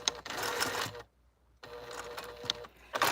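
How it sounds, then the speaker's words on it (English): A sewing machine stitches a 1/4 inch seam in two bursts of whirring, with a short pause between them and faint clicks near the start and end. "just sewing this at a 1/4" seam allowance."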